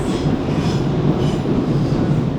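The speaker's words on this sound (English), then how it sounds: "please bear with us if a train goes overhead, just like this" A train rumbles loudly overhead across the railway arches at Vauxhall, a continuous heavy roar with wheel clatter filling the space and no talking.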